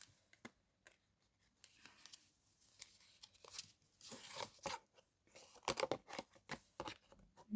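Scissors snipping through paper or card at a craft desk, a few quiet, irregular crunchy cuts with handling rustles between them, close but faint.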